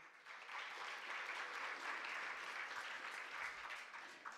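Sustained audience applause at a regional oratory contest in Los Santos province, Panama, a dense, steady clapping crowd filling the hall without a break.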